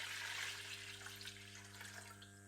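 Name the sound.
about 2 litres of water poured into a pot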